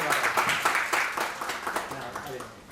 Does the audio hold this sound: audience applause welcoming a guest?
yes